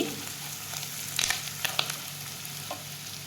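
Onions and curry leaves soften in hot oil in a pan for a chicken gravy, a steady low sizzle with a few brief scraping stirs partway through and no voices.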